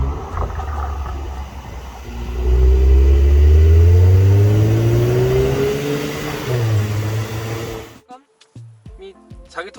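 The twin-turbo V6 of a Mercedes-AMG C43 C-Class revs up, a deep, loud drone climbing steadily in pitch and holding strong. It then falls away abruptly into near quiet broken by a few small clicks.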